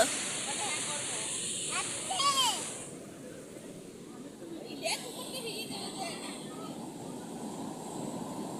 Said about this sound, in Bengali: খুব বড় বড় ঢেউ দিচ্ছে, এখন জোয়ার আছে তাই জন্য অনেক বড় বড় ঢেউ দিচ্ছে